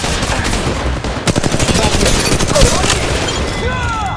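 Automatic gunfire in the mobile game Apex Legends Mobile, dense rapid bursts of shots in a loud battle mix, with game sound effects layered over them.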